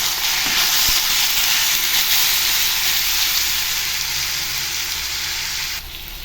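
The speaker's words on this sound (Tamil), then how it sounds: "இப்போ மசாலா பொருளெல்லாம் இதில் போட்டுக்கலாங்க. இது நல்லா வதக்கிடலாம்." Masala spices sauté in a pan for chicken gravy, giving a loud, steady, hissing sizzle up close with a couple of faint knocks early on. The sizzle drops slightly near the end, and there are no voices.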